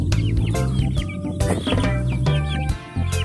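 Backyard flock of mixed Oriental chicken breeds, including Bantams, clucking and calling repeatedly at close range in a lively, overlapping chorus with no talk.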